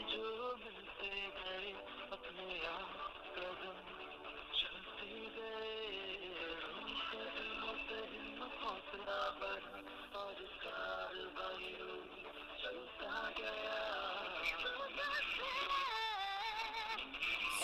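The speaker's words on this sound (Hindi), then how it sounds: "ये कॉलर ट्यून उनकी अभी बज रही है" A caller tune plays continuously through a phone line while a call to a builder's executive goes unanswered, with steady tonal music that sounds thin and telephone-filtered.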